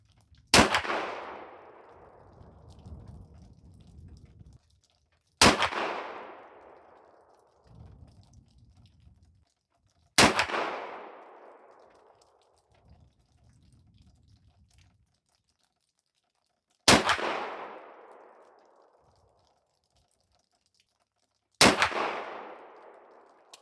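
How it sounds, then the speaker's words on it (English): Five loud 20 gauge shotgun blasts firing Hornady SST sabot slugs through a smoothbore 301 with a rifled choke tube, evenly spaced about five seconds apart, each sharp report trailing off into an outdoor echo. "let's go take our shots and see if the 20 gauge SSTs will work through a smoothbore"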